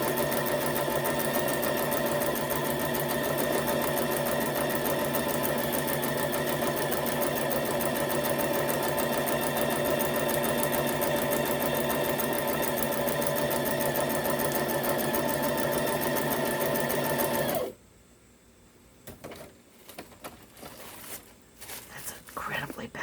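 Sewing machine stitching through paper journal pages, a steady, loud, close mechanical whirring hum that runs continuously for about seventeen seconds before stopping abruptly, leaving faint handling noises.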